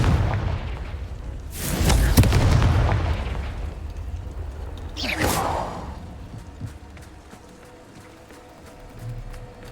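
Confringo spell explosions in the Hogwarts Legacy video game: two heavy booming blasts roughly three seconds apart, each with a sharp crack and a long rumbling decay, followed by fainter scattered impacts and no talk.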